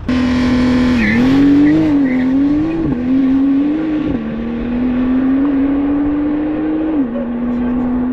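Porsche 911 GT3 engine roaring loud and close at high speed, holding a steady high pitch with small dips as the driver brakes hard, tire noise underneath, one voice briefly heard over it.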